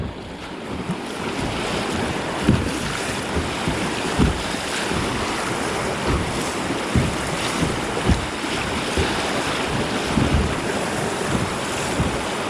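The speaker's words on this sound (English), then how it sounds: "Watch it ride over these waves." A Crescent CK1 Venture kayak rides over river wave trains, with steady rushing water, repeated slaps and thumps as the hull hits each wave, and wind noise on the microphone.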